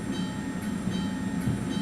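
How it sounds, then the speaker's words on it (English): An MBTA commuter train passing in the video game Train Sim World 2, heard as a steady low rumble with faint rail clatter, no talk. "another MBTA train leaving"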